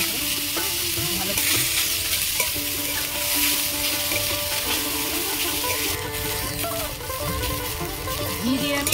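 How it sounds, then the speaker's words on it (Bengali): Bottle gourd fries in ghee in a wok, a steady close sizzle with occasional stirring, carried under continuous melodic background music. "ঘি দিয়ে আমি লাউটা ভালো করে ভেজে নিয়েছি।"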